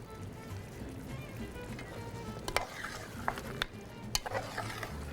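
Lahori-style mutton karahi with tomatoes stirred and frying in a pan, a steady low sizzle with occasional scraping clinks of a utensil, faint and close, no talking.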